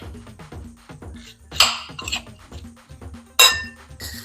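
Tomato, onion and cucumber stirred in a bowl, with rhythmic clinks and scrapes of a utensil against the dish and two sharper clanks standing out.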